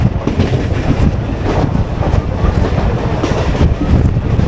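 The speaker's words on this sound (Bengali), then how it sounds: "আমার ট্রেন এখন সবে ব্যারাকপুর ছাড়লো" A Krishnanagar local train runs just out of Barrackpore, a loud close rumble and rattle heard from on board, with rhythmic wheel clatter and wind buffeting.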